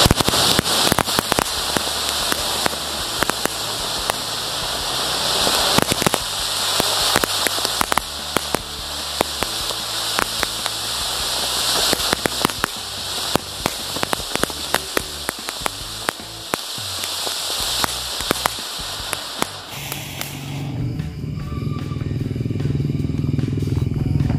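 A fountain firecracker, the Indonesian mercon air mancur, sprays and crackles steadily for about twenty seconds with dense popping bursts running through a loud hiss. The burst then dies away into quieter outdoor ambience.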